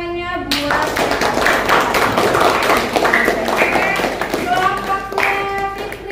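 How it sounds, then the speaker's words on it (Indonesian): Students in an Indonesian classroom clap for a student group, a brisk burst of close hand claps and taps mixed with overlapping voices and chatter throughout. "Silakan beri tepuk tangannya buat"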